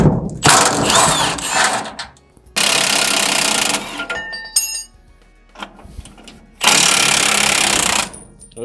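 Tools work on the shocks of a C10 truck: long loud bursts of mechanical rattling and whirring, like an impact wrench, alternate with metallic clinks and short quiet gaps.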